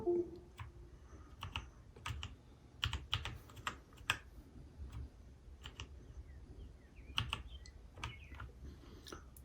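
Typing on an Epomaker S68 RGB mechanical keyboard: scattered, close clicky keystrokes in irregular bursts and pauses, with no talking.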